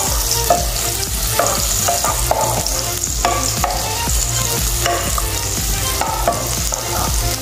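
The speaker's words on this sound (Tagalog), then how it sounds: "ilagay natin yung sibuyas. Haluin lang natin at ituloy ang pagluluto" Onions frying with squid adobo in a pan, a loud constant sizzle with frequent scraping knocks of a spoon stirring against the pan, heard up close without any voices.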